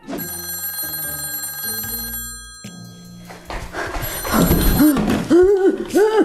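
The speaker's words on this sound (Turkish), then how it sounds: "Bir iki saattir yine telefonu çaldırıyor" A telephone bell rings in repeated bursts, loud and close, followed by clunks and a voice speaking over the end.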